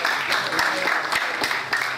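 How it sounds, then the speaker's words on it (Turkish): An audience claps for a student named İbrahim at a school reader-writer meeting, steady dense applause running throughout at a constant level. "Evet, İbrahim'i alkışlıyoruz."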